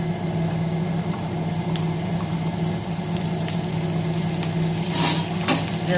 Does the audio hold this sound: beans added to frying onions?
yes